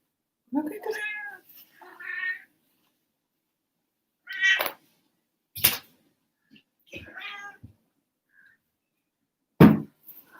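A house cat meows several times in a quiet room, giving drawn-out, wavering cries with long silent gaps between them, close and clear.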